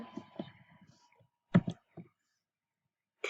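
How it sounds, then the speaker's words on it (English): Sharp mouse clicks on a computer while building a card in Scratch, a few isolated taps standing apart from soft muttered talk, with one more click at the very end. "Click"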